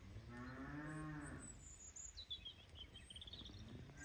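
A single low, drawn-out cow moo, fairly distant, followed by faint bird chirps in the open air.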